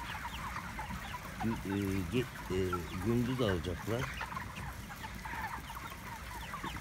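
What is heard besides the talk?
chickens clucking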